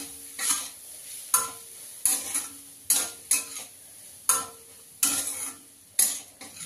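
Ground green pea nimona paste cooks in a pan as a spatula scrapes and stirs it in a steady rhythm of about eight strokes over a soft frying sizzle.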